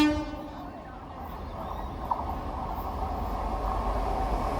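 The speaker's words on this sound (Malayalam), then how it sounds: "ട്രെയിൻ ഇതിലൂടെ റാപ്പിഡ് സ്പീഡിലായിരിക്കും ക്രോസ് ചെയ്യുന്നത്" A 25 kV AC electric locomotive hauls a train past at high speed, a loud rumbling roar of wheels on rails that builds steadily, with a brief horn tone near the start.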